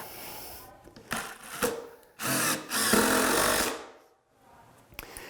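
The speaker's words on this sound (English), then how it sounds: "you're going to want to set that glue joint with a construction screw" A drill drives a 3-inch construction screw at an angle through a glued subfloor joint, several short whirring bursts and then one long sustained run, close by and loud.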